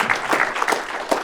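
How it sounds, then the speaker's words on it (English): A seated audience at an academic talk gives a short round of applause, a brief, moderately loud patter of many hands clapping together with no voices. "Let's go ahead and give them a round of applause"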